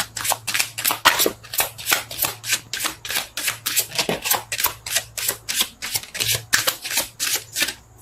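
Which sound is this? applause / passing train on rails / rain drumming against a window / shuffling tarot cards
shuffling tarot cards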